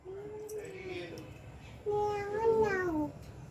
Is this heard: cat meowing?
yes